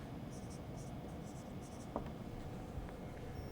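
Chalk or marker writing on a classroom board during a thermodynamics lecture on units and dimensions, heard as a few short scratchy bursts of strokes under steady room noise.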